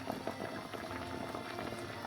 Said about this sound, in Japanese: さらにボコボコと沸騰した状態で蒸すのもポイント。